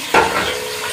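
Green chillies sizzle in a pan with frying onions as potato and spinach sabzi is cooked, a brief burst of frying hiss that settles into a steady, close sizzle without speech.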